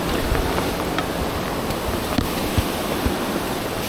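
Fast water of the West Prong Little Pigeon River in the Great Smoky Mountains pours over big rocks as a steady, close rushing roar with a few splashy accents, no voices heard.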